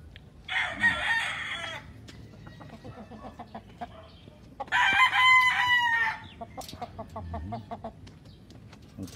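A big gamecock on a Philippine breeding farm crows loudly twice, each long crow standing alone and close, with a few soft clucks and scattered farmyard noises between them.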